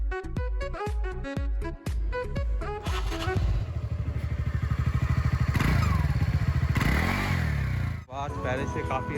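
A TVS Ntorq scooter engine runs after a service. It starts with a few sharp clattering bursts, then builds into a loud sustained revving drone that rises and falls, heard close up.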